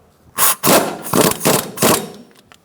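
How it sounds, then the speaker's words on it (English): A wrench tightens a front strut bolt to 35 foot-pounds on a 2004-2009 Mazda 3, with a 16mm wrench holding the back end; four loud, short ratcheting bursts come close together with brief pauses between them. "Snug this up, and then we'll torque it to 35 foot-pounds using a 16mm on the back end to hold it still"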